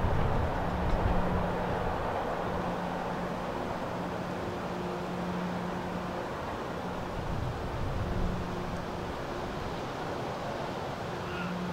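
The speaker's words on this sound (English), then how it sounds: "train meet right there at night" A CSX train rumbles past at night in a steady, continuous roar, with a faint sustained horn-like tone running underneath the noise.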